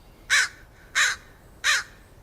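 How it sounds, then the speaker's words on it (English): American crows cawing outdoors: three loud, harsh caws spaced evenly about two-thirds of a second apart, each short and rasping, standing alone over faint background hiss. "Crows caw,"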